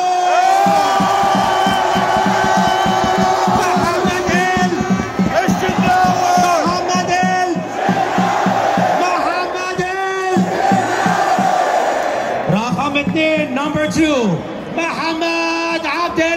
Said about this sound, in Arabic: لأول مرة في التاريخ الجمهور العظيم هيرد اسامي اللعيبه 3 مرات